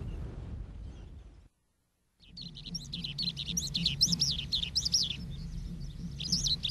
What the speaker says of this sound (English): It's easy to hear the pescador skylark singing frequently